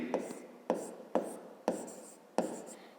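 A pen writes on paper up close, producing a series of soft scratchy strokes, each starting with a sharp tap and fading, about five in quick irregular succession, quiet and alone.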